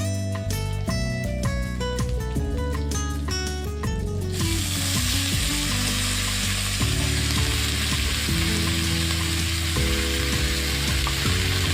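Potatoes and onion greens with dried fish are stir-fried in a pan. A steady, close broadband sizzle with occasional scraping runs under background music, and the frying grows fuller after the first few seconds.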